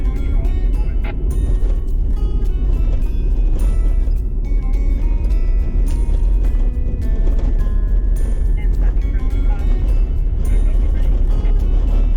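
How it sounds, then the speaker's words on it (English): A car drives along a roadside drain with a steady, loud rumble of engine and tyres, continuous and close throughout, with faint rattles over the drone. "driving in the drains is a heck of a lot smoother than driving actually on the road"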